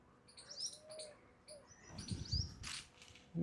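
A few quick, high bird chirps and short whistled calls, fairly faint and spaced out over a quiet outdoor background.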